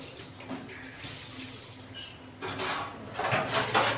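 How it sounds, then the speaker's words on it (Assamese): Dishes being washed under a running tap at a hotel, water splashing steadily with brief clinks, the flow swelling louder toward the end. "বাচন ধুব লগা হৈছে হোটেলত"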